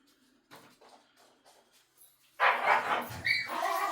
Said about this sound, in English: there's my dog's probably fighting over a toy